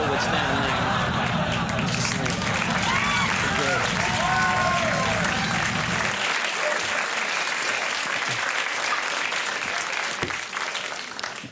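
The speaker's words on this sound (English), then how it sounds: "It's a nice crowd that would applaud that special effect." Late-night talk show studio audience applauding a special effect, loud dense clapping that fades out over several seconds.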